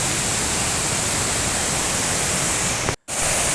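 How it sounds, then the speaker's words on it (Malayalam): Urulikkund waterfall in Kannur roars as a steady, dense rush of water, loud and close, with one abrupt break near the end. "ഇവിടെ ചെറിയ ചെറിയ ഒരുപാട് വെള്ളച്ചാട്ടമാണ്"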